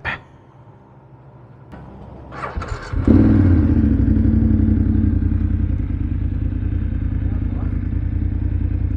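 A 2021 BMW F750GS TE motorcycle with its exhaust sound resonator box removed on an otherwise standard exhaust starts up after a short clatter, then runs loudly with a steady deep rumble close by, steady and unbroken to the end.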